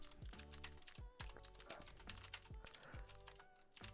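Rapid typing on a computer keyboard during a Nitro Type online typing test, a fast, steady run of close, crisp key clicks with louder thumps from bigger keys, no talking.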